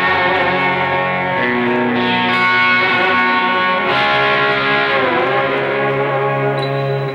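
An electric guitar is played through a Boss eBand JS-10 set to distorted 80s heavy metal tones with reverb and delay. Loud sustained notes ring and bend, with a few slides, and there is no talking.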